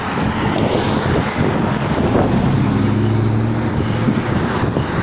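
A low, continuous rotor and engine drone from a helicopter passing overhead, steady and fairly loud with wind noise, no talking.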